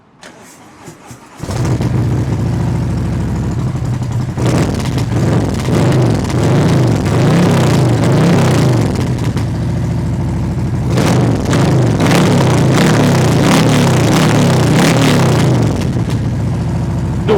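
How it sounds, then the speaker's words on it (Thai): A Harley-Davidson CVO motorcycle's 131-cubic-inch engine, fitted with an aftermarket Vance & Hines exhaust, fires up and then revs repeatedly with a loud, raspy exhaust roar, rising and falling in several bursts, close by. "มาพร้อมชุดท่อแวนแอนไฮนะครับ บอกได้เลยว่า เสียงเนี่ยลั่นมากนะครับ ลองฟังกันดู"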